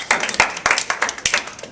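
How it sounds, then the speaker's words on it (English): A small group clapping, a short burst of irregular hand claps that is close and fairly loud. "Round of applause for Jay, everyone."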